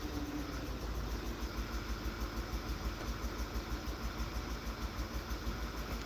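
A car engine idles steadily with an uneven, stumbling misfire beating through it, close and continuous with no voices.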